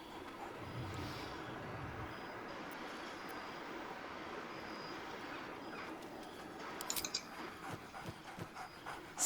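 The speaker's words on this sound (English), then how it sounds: "Scratch barks merrily in something like agreement." Scratch, the dog companion in Baldur's Gate 3, pants steadily and close up over a low background hum, with a few short sharp bark-like bursts near the end.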